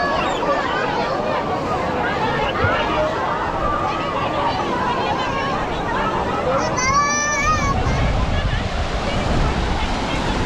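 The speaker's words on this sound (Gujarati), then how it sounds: "તમે જોઈ શકો છો કે કઈ રીતે ધોધમાર આ પાણી જઈ રહ્યું છે" Water rushing hard at a waterfall in dense forest where people are bathing, a loud continuous roar close to the mic with wind buffeting and a brief sharper splash partway through.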